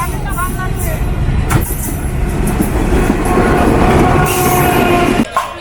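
A train rolls past close beside a busy livestock market at the railway line, loud rumbling wheels and rattling wagons continuing throughout with brief squeals, amid a murmur of crowd voices.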